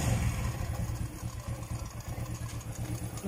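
A carbureted motorcycle engine with a muffler and air filter fitted idles nearby with a steady, low, lumpy putter, heard alone.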